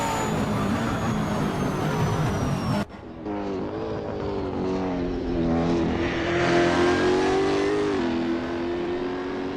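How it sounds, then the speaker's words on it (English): V8 Supercars racing at Bathurst in Assetto Corsa roar past in a loud, sustained engine drone, with revving pitch sweeps, one sharp cut as a car passes, and another engine climbing steadily afterward. "The rumble of the engine"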